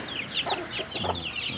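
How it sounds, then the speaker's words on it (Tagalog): Small chicks close by, nearly a month old, peep and cheep in a rapid run of high, bright calls with no talking. "Mga sisiw ko"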